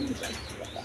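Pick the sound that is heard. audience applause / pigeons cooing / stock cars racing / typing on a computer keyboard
pigeons cooing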